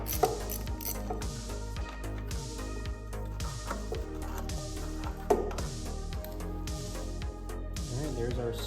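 A ratchet unbolts the starter on a Pontiac Fiero, with repeated quick clicking runs of the pawl in bursts across the stretch, close up, and a voice occasionally speaking over it.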